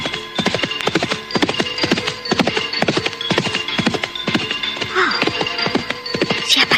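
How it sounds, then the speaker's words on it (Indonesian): Horse hooves clip-clop steadily and close as a horse-drawn cart rolls along, the brisk rhythm continuing throughout with a brief whinny-like sound near the end. "Gerobak kuda itu."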